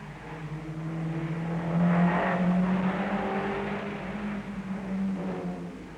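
1962 Sunbeam Rapier rally cars racing through a fast left-hand bend, engines droning and rising in pitch as they pass at moderate distance amid a muffled, old-recording hiss.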